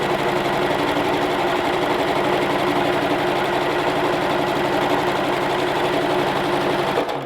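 A sewing machine stitching a short partial seam in quilt piecing runs loud and close at a steady, rapid whirring pace, stopping abruptly at the end, with no talking.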